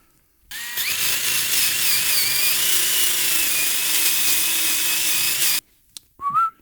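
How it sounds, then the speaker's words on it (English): A plastic cleaning disc spun by a power tool scrubs the wheel hub of a Skoda Enyaq EV, giving a loud, steady, high whine lasting about five seconds that cuts off abruptly, followed by brief faint handling noises. "I'll just clean the hub here with some sort of a plastic disc"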